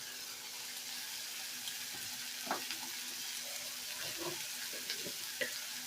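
An egg fries in a pan with turmeric and salt while making spiced puffed rice, giving a faint, steady sizzle with small crackles and a few soft stirring taps close by.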